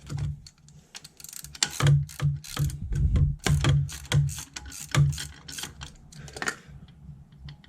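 Close, crisp ratcheting of a hand socket wrench working engine mount bolts on a Volvo, rapid clicking bursts in repeated back-and-forth strokes with short pauses between, no voices.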